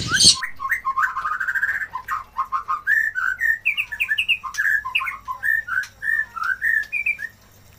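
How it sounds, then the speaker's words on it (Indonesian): An imported Javan Hongkong myna in a bird shop calls in a close, loud run of rapid whistles, chirps and squawky notes that go on for about seven seconds. "Ini ada ready stok burung jalak Hongkong, ini burung impor."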